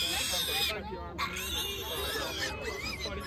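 Small pig making squealing, oinking cries while being picked up, loud and close, overlapping with people talking nearby.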